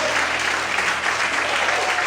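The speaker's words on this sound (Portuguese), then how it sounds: "Mais fortes palmas para Deus" A church congregation applauds to God during a sermon, with a dense, loud wash of clapping that stays steady for two seconds with no pause.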